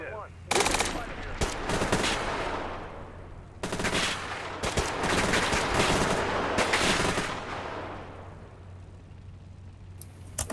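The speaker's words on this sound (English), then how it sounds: "We're taking fire here." Sustained gunfire and machine-gun bursts in the Steel Beasts Pro PE tank simulation game, loud, dense volleys with brief pauses, over steady engine rumble, with faint radio-style talk in the background.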